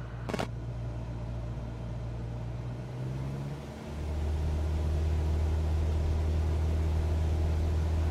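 In Flight Simulator 2024, a light aircraft engine is throttled up to 2,400 RPM. A steady droning hum drops briefly, then settles into a deeper, louder, sustained tone that continues evenly to the end with no voices.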